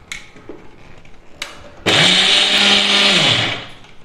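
A mixer grinder powders dry rasam spices in a short burst, starting with a loud high whine that holds for about two seconds and then winds down, preceded by a couple of soft knocks.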